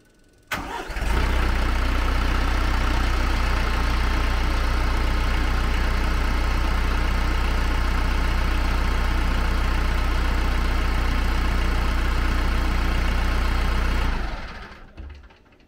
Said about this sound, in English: I'm just gonna crank it up, let it idle for about 10 seconds, shut it off